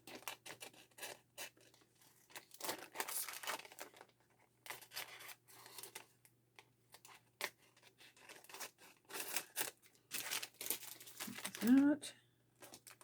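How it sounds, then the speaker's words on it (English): Scissors snip and scrape along the edge of a paper pocket piece for a vintage circus lapbook, a run of short crisp cuts and paper rustles close by, with a quieter stretch in the middle and a louder crinkle near the end. "I'm just going to cut around it."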